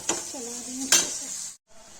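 Chicken liver and onions stirred in a pan, a utensil scraping and clinking against the metal in two sharp strokes over a soft sizzle, close and fairly loud, ending in a brief pause.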